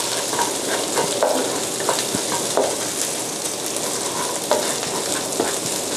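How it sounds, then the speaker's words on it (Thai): Coriander root, garlic and pepper sizzle steadily in a wok, stir-fried as a base for chicken in Thai chor muang dumplings. Occasional light spatula scrapes sound up close, with no speech. "ผัดให้มันสุกหอมนะคะแล้วให้กลิ่นมันโชยออกมานะคะ"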